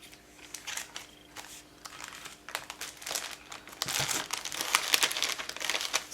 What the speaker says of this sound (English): So we have got here our paper bag, our mixed sort of paper bag.